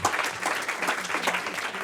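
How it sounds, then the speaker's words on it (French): Short, lively round of applause for a presenter at a sextech lab pitch event, many hands clapping close and loud in uneven bursts throughout. "Allez, on l'applaudit, vous vous rendez pas compte"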